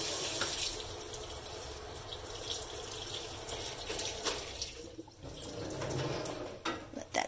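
Water runs steadily from a shower head in an old Japanese apartment with decent water pressure, a continuous close hiss and splash with slight shifts in flow and no talk.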